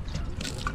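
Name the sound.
water poured on a car cover for a water test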